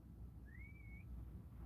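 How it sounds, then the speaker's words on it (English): A single short whistled note rises and holds, a faint clear tone heard outdoors at night while watching the Perseid meteor shower. "Someone's whistling."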